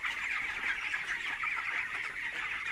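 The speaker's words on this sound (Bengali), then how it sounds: "এখানে এই ফার্মে 900 মুরগি আছে" Chickens on a poultry farm with about 900 hens, a continuous crowded chorus of clucking and chattering that holds steady at moderate level, with no voices over it.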